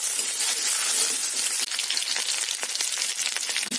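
Green chilies fry in hot oil with a loud, close, crackling sizzle that runs unbroken, dotted with small pops.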